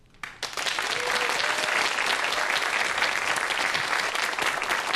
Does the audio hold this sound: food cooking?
no